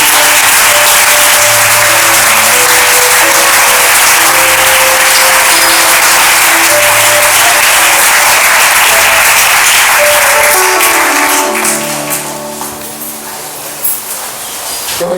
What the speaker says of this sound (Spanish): Y te damos un fuerte aplauso.